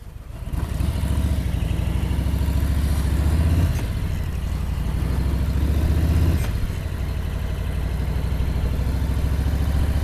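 A 2018 Harley-Davidson Street Bob 107 rumbles steadily while being ridden, its deep engine note loud and close with slight rises and dips in throttle, and no one speaking.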